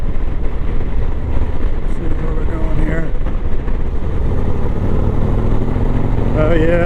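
2024 Harley-Davidson Street Glide engine rumbling steadily while riding, a loud low drone mixed with wind buffeting, with a rider talking over it.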